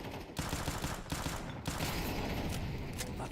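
Five-SeveN pistol fire in Counter-Strike 2 during a competitive match cracks out in a rapid fusillade, several close, sharp shots with a short pause, mixed with other gunfire and game noise.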